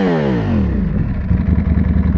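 A Ducati Panigale V4S Corse engine, 231 hp, drops from a high rev into a deep, loud, lumpy idle, close by, with a pulsing rumble and mechanical clatter.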